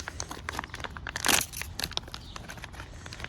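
Crinkly plastic packaging of an MRE muffin top is torn open up close, a run of crisp crackles and rustles with one louder tearing burst in the middle.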